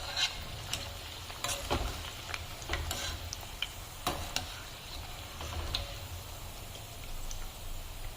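A batch of lentil fritters (dal vada) fries in hot oil. A steady, close sizzle runs throughout, broken by light ticks and clinks as the fritters are moved and lifted out.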